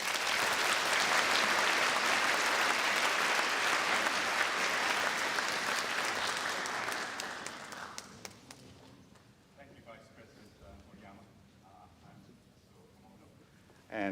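A large audience at a university entrance ceremony applauds loudly to welcome a speaker, the dense clapping thinning out and fading after about eight seconds into quiet room sound with a few stray claps.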